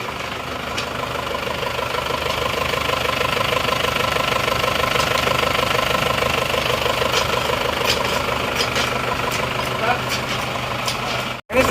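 A warmed-up Isuzu Panther engine that has never been overhauled idles steadily with a rhythmic knocking clatter. It is loud and close, continuing under a voice.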